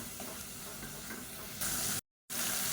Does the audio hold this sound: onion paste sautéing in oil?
yes